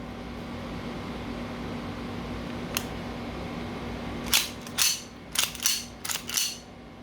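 Sharp metallic clicks from a full-metal Cybergun Colt 1911 rail airsoft pistol, one faint click followed by a quick cluster of about six louder, close clicks and clacks over a low steady hum.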